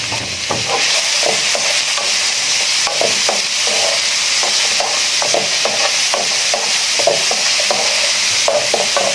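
Onions stirred and frying in a pan for fish pastil, a steady close sizzle with repeated scraping clicks of a utensil against the pan, no voices.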